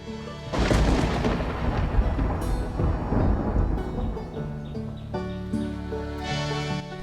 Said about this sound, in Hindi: क्योंकि काफी तेज बिजली कड़कने लगी थी